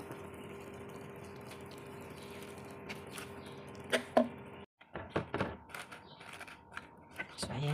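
A small splash of water is poured into a cooking pot of sautéed alugbati greens with sardines, a brief soft pour set against quiet kitchen background and speech.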